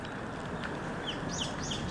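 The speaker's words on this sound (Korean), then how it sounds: "어디서 새소리가 이렇게 나지?" Faint high bird chirps flit in short bursts over a quiet background hiss, a few calls scattered near the end.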